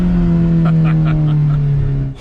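Alfa Romeo 4C driving on an empty runway, its engine holding a loud, steady drone heard from inside the car with a few rising pulses before the sound cuts off near the end.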